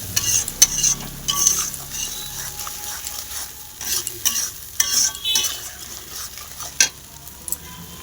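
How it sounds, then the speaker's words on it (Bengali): Coconut milk being stirred into spice paste in a sizzling pan, quick clinks and scrapes of a spoon against metal over a soft frying hiss, close by and with no one talking. "নারকেলের দুধটা দিয়ে ভালো করে মিক্স করে নেব।"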